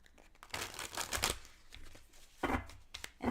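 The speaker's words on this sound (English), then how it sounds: "we're going to give the card to shuffle." Tarot cards being shuffled by hand, a soft, close riffling and flicking that comes in bursts with short pauses between.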